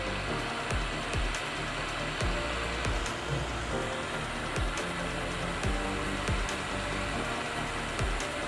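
A steady, broad roaring hiss of a torch flame heating a silver jewellery piece to anneal it, continuous and fairly loud throughout, with faint low thumps scattered underneath.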